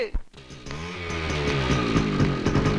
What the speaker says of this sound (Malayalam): എടടാ ബൈക്ക്.